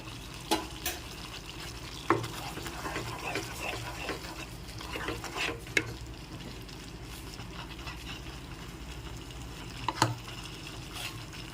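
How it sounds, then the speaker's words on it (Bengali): Spices for shahi paneer being stirred in a pan, a soft continuous scraping and faint sizzle with a few sharper clicks of the spoon against the pan, steady and fairly quiet throughout. "একটু নেড়েচেড়ে মিশিয়ে নেবো মশলাটা"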